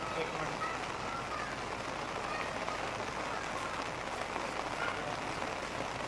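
Heavy rain pours down on flooded, waterlogged city streets, a dense continuous patter and hiss of drops striking water that stays loud and unbroken from start to finish.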